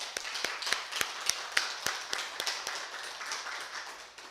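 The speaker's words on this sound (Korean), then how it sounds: "큰 박수로 좀 한번 격려해 주십시오." Scattered, fairly sparse hand claps from a church congregation during a service, crisp individual claps at an uneven rhythm that thin out toward the end, with no talking over them.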